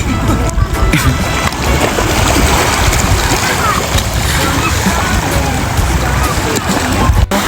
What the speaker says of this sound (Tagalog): ang daming alon no. Ang tuloy-tuloy. So grabe na yung alon